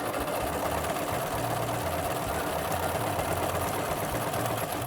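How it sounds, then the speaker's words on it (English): A sewing machine runs continuously at a steady fast pace, stitching a curved seam on a fabric pocket flap for a Mary Quant-style minidress, its close mechanical whir loud and unbroken. "And then I'm going to stitch around just that top curve here."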